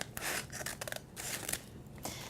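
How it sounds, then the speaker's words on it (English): Large scissors snip through a brown paper bag at close range, several quick crisp cuts and rustles in a quiet room. "we cut the top off of 2 different brown bags"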